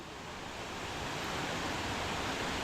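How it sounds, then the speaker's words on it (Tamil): Steady, broadband rush of water pouring down Mangalam falls, a loud, continuous roar filling the space close by with no break or talking. "இங்கே பாருங்கள் அருவி அங்கே இருக்கு"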